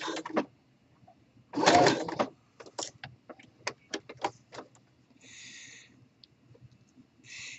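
A sewing machine sews a lock stitch to fix branded elastic to a swimwear leg hole. It runs in short separate bursts of rapid stitching with quiet pauses between them, close and clear.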